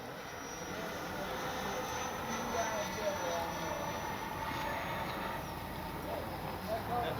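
Freewing 80mm F-22 RC jet in flight, a steady broadband whoosh of ducted-fan roar holding level throughout, with voices speaking over it.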